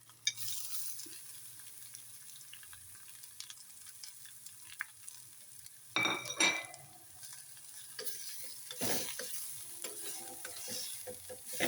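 Ground jackfruit is stirred and fried in a pan with curry leaves for a traditional jackfruit thoran, giving a steady sizzle with scraping stirs and a louder burst of frying and utensil clatter partway through.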